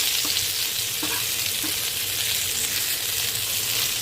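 Topse fish coated in ground puffed rice frying in oil, a dense, even sizzle that holds steady throughout, near and fairly loud, with faint low rumble beneath.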